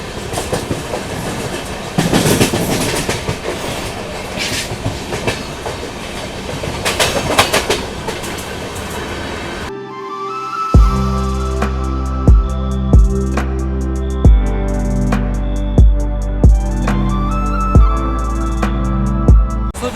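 The Swaraj Superfast Express departs Vapi, its wheels giving a loud, continuous rumble and rattle on the rails for about half the time before rhythmic music takes over.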